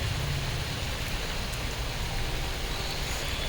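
A constant wash of rainfall covers the outdoors in Banaras, loud and uniform, with the patter of drops on surfaces and no one speaking.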